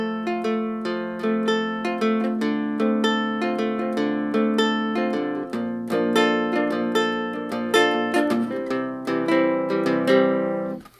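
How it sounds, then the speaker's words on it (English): A six-string guitalele, tuned higher than a standard guitar, picked in a steady stream of bright plucked notes and chords, close and clear with no talking. "A guitar lely is a bit like a ukulele, but it's got six strings"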